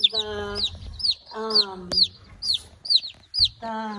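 Orpington, Jersey Giant and white Brahma chicks peep in quick, high, falling chirps that repeat steadily, with lower throaty calls or murmuring voices beneath them.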